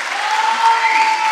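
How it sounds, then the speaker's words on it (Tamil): Audience applause for a film producer fills the stretch, dense steady clapping at a fairly loud, even level with no voices on top. "இப்படிப்பட்ட தயாரிப்பாளருக்கு ஒரு பெரிய கைத்தட்டல் கொடுங்க."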